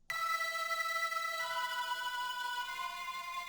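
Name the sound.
synth pad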